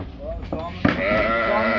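Sheep from Zomin bleat loudly and repeatedly, one call overlapping another, with a busy crowd of animals close by at a livestock sale.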